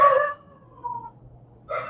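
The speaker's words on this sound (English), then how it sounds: "Yeah, the dogs. what is he barking for?" A dog gives a couple of short howling barks, a yelp at the start and another near the end, fairly close, with a quieter drawn-out whine between them over low background hum.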